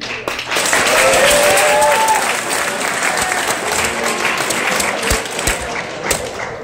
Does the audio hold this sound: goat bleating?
no